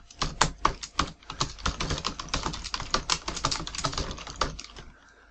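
Fingers type on a computer keyboard in quick, uneven bursts of close, crisp key clicks, with a brief pause near the end.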